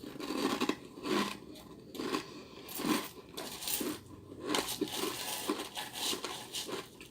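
Dry cereal crunched close to the mouth, loud crisp bites and chewing in an uneven rhythm, each crunch bursting broadly then fading, alone with no talk.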